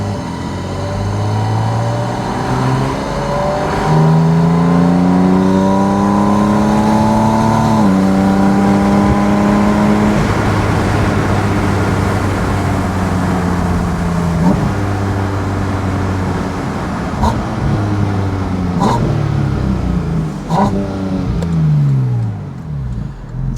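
A Porsche 718 Spyder RS sports car engine drones loudly and steadily while driving, its pitch climbing through revs, dropping at gear shifts and rising again, with some wind noise and no talking.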